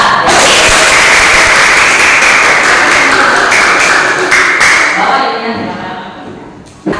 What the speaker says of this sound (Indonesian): tepuk tangan buat kelompok 1 dan kelompok 4